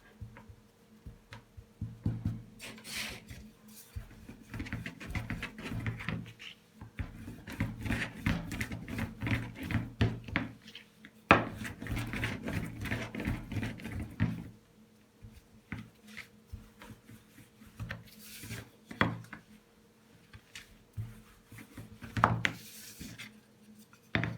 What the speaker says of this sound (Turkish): Tezgahımızın üzerine un serpip bezemizi açmaya başlayalım arkadaşlar.